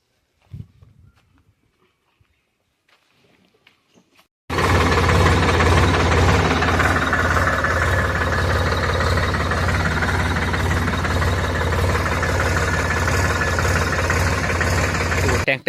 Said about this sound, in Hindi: ट्रैक्टर लेके निकले हैं राजदीप